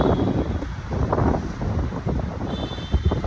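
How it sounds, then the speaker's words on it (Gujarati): Wind gusting across an outdoor microphone, a steady, loud buffeting rumble that fills the whole stretch without any voices. "પવન એટલો મસ્ત છે ને તો અહીંયા બેઠા છીએ અમે"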